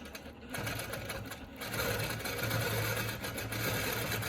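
A longarm quilting machine stitches along a straight-edge ruler with a continuous mechanical hum and a rapid, even needle rhythm, close and fairly loud with no talking.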